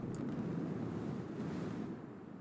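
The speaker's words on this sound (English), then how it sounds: "It's quite windy on the ground" Steady low wind rushes across open ground on a planet surface in Star Citizen, a soft continuous roar with gentle gusts, fairly quiet.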